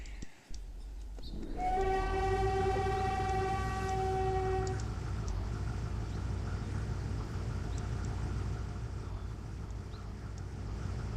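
A video game train engine roars steadily, close by, like a jet on rails, while a horn-like tone sounds for a few seconds near the start.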